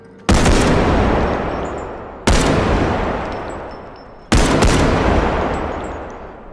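Three sharp, loud gunshots, evenly spaced about two seconds apart, each a hard crack trailing off into a long echoing decay, from the video game BodyCam.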